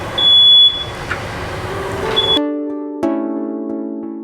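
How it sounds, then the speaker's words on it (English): A steady, buzzing electronic smoke alarm sounds loud and close, after a stretch of sizzling, hissing noise from a burger patty frying that cuts off abruptly. "you're not really cooking until the smoke alarm goes off"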